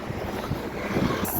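Strong wind buffets the microphone on a bridge over the river in Novi Sad, a loud, continuous rumbling roar with gusty swells and no speech.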